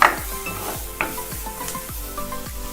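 Vegetables sautéing in a pan for a chicken sandwich filling, with steady sizzling and repeated scraping stirs of a spatula against the pan, close and clear with no talk.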